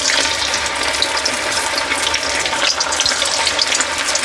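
Sago vadas deep frying in hot oil make a dense, continuous bubbling hiss, close and fairly loud, with no voices.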